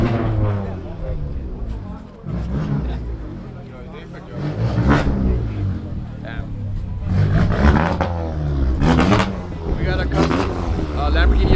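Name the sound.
white Lamborghini Aventador engine revving, driving away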